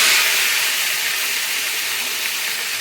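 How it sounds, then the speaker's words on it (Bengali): Meat dropped into a hot pan of tempered spices gives a loud, close, continuous hissing sizzle that is strongest at the start and eases slightly as it goes on. "এখন এই মাংসটাকে আমি ওর মধ্যে ছেড়ে দেবো।"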